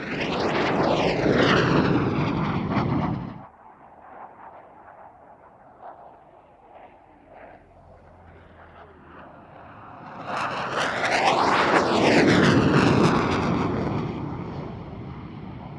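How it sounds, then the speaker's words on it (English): A Hawker Hunter jet roars past loudly at an airshow, fading to a distant rumble before a second powerful pass surges back with a rising, whooshing engine roar. "now this Hunter is a quite extraordinary aeroplane"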